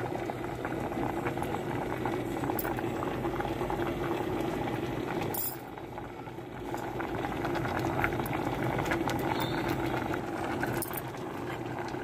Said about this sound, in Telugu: పప్పు ఉడకాలి. పప్పు ఉడికిపోయిందండి.